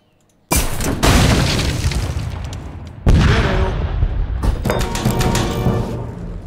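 Cannon fire striking a wall in Age of Empires 3 Definitive Edition, a Japan match: two loud booming impacts with crumbling, shattering debris that rumbles on between them, dense and close with no talk.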